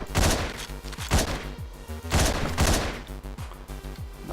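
Gunfire in the top-down shooter Hotline Miami: several loud, sharp shots in quick bursts roughly every second, each with a short metallic ring and echo.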